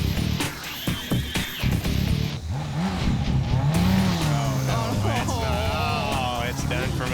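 A drag racing motorcycle wheelies down the strip at a game-show drag event, its engine revving and rising in pitch under loud, excited talk from people nearby.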